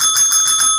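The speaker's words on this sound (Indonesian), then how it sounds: "Pengumuman udah pakai lonceng." A bell rings in rapid repeated strikes for an announcement, bright and close, its metallic tones ringing steadily through under a second.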